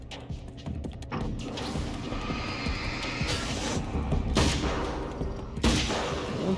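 Rifle fire in the video game Alan Wake's American Nightmare, a dense barrage of loud shots and booms layered over constant in-game noise, with several sharper bursts standing out.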